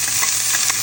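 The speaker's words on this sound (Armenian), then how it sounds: "քիչ տապակեմ սոխը" Chopped onion sizzles and hisses steadily in a hot pan used just before for browning chicken pieces, with faint stirring scrapes over the dense, close frying noise.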